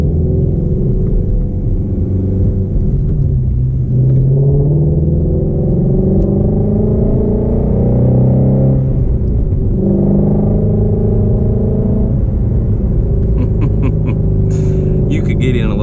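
Ford Mustang rolling slowly through a mall parking lot, a low, steady engine rumble with gentle swells in revs, close and continuous, and a brief light clatter near the end.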